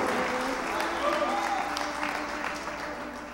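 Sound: congregation applause

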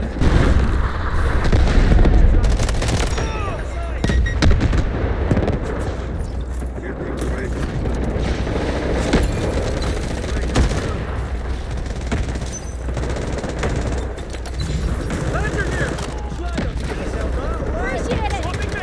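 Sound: gunfire in the video game Delta Force

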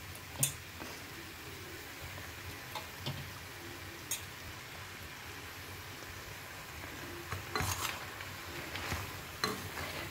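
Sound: mushrooms added and stirred in a frying pan

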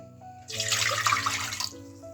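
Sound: water pouring into a pot

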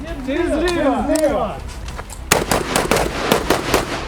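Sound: rifle gunfire

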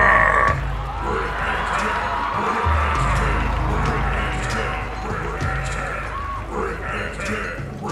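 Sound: crowd roaring in a Fortnite short film

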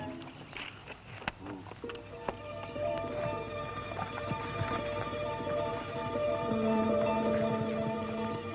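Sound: horses' hooves clip-clopping

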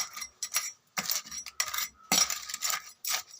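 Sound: stirring crab gravy in a pot

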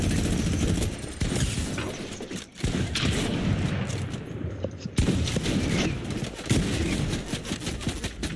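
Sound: gunfire from the Fortnite video game

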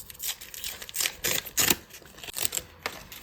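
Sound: opening a paper packet

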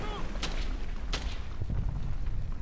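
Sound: cannon firing in the video game Brothers in Arms: Hell's Highway

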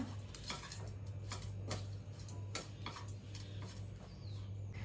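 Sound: stirring kozhukattai mixture with pepper and asafoetida in a pan

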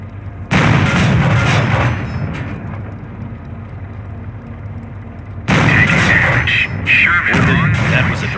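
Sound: Sherman tank cannon hitting Panzer in Company of Heroes video game

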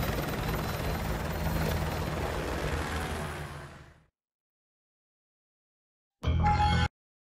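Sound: helicopter in video game Call of Duty Modern Warfare 2

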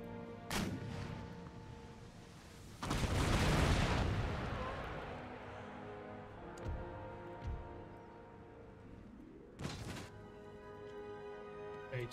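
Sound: rockets and artillery firing in video game Empire: Total War

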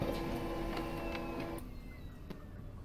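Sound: printer noise in the video game Freddy Fazbear's Pizzeria Simulator

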